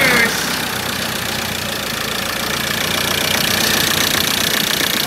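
A freshly fitted reconditioned 2.2 TDCi diesel engine in a 2013 Ford Ranger idles just after starting, a loud, steady, rough clatter close by that runs on without a break.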